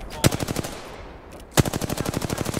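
Rapid automatic gunfire in the video game Apex Legends: a loud close burst, a short pause, then a second longer stream of evenly spaced shots.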